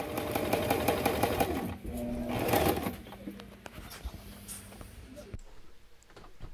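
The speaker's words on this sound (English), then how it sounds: "Trying to figure out how to do the tracks and sew everything together." A sewing machine runs in short bursts while curtains for a boat's side windows are sewn, the close whirring stopping after a few seconds and leaving quieter background sounds.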